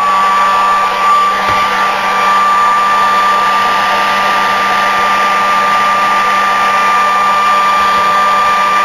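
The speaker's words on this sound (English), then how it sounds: "hit that with the blow dryer" Loud, steady whine of a blow dryer running continuously at close range, an unbroken airy roar with a high tonal hum.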